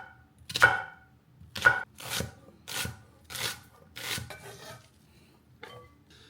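Knife chopping onion on a cutting board while making sinigang: a series of about seven crisp, evenly spaced cuts, close and moderately loud, trailing off into fainter taps, with no talking.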